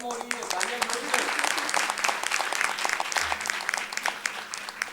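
Steady, dense clapping from an audience at a soy food business talk, loud and continuous throughout with no pauses.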